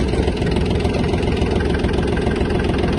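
A Yanmar F-180 Japanese mini tractor diesel engine idles after starting, a loud, steady, close chugging rumble that stays even throughout.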